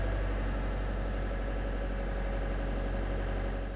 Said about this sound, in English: Let the engine warm up before operating.